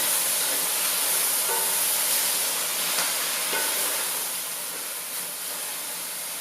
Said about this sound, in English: I'm going to be putting in just a little bit of water